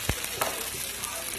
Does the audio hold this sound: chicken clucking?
no